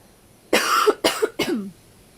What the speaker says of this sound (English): let me just quickly cough